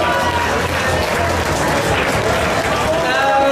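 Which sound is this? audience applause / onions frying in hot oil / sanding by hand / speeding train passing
audience applause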